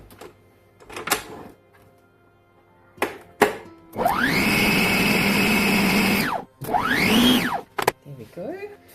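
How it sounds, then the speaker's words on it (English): A stand mixer fitted with a whisk attachment whips butter for orange ermine frosting: a few clunks and clicks, then the motor revs up into a loud sustained whir, stops briefly, and spins up again before winding down. "And we'll use this attachment, the whisk."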